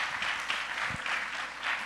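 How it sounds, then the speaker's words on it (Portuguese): Brief, faint audience applause at a physics talk, an even patter of many hands clapping with no voices over it. "palmas."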